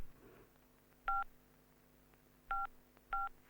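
Three short beeps from a mobile phone keypad, each tone clear and isolated, sounding close by in a quiet indoor room with a faint steady hum beneath.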